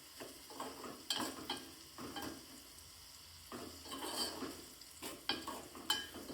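Cut green chillies fry in a pan for a country-style meal with bajra rotla, giving a steady close sizzle broken by repeated scraping stirs at a loose, uneven rhythm.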